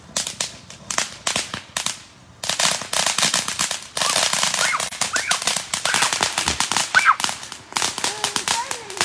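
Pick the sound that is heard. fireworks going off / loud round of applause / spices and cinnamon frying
fireworks going off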